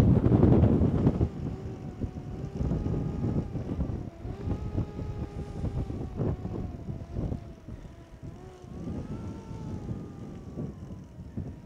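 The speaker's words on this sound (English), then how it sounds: "it's breezy now, but it got really gusty" Gusty wind buffets the microphone on an exposed Lake District mountain, a loud, continuous low rumble that swells and eases in gusts, with no talking.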